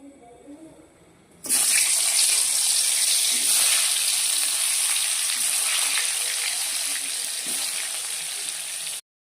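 Loud, steady sizzling of food frying in hot oil starts abruptly and continues close up for several seconds before cutting off.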